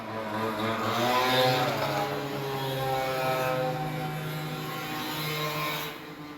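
A motorbike passes nearby outdoors, its engine drone building to a peak and then holding a steady, slowly fading hum over several seconds, with no voices.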